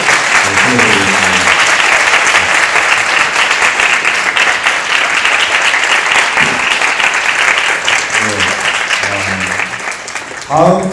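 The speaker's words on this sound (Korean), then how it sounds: "우리 수고해 주신 감독님께 다시 한번 감사의 박수를 보내드리겠습니다" Loud, sustained audience applause for the director at a Korean Christian forum, a dense steady wash of clapping filling nearly eleven seconds, with a few faint voice traces and a short speaking voice at the very end.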